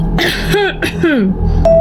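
A rough, raspy cough with throat clearing, voiced and strained, close by, over a low steady hum.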